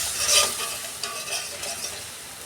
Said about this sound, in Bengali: মশলাটাকে আমি একটু 2 মিনিট কষে নেব।